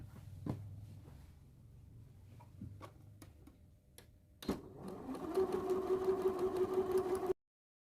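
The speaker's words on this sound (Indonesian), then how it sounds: "Kita jahit lebih kurang 3 mili dari tepi kain, jangan ditarik, juga jangan diulur, lemes saja." Sewing machine stitching bias tape onto a round fabric neckline: a few soft ticks and clicks, then a steady, fairly quiet mechanical whir of continuous stitching for about three seconds before stopping.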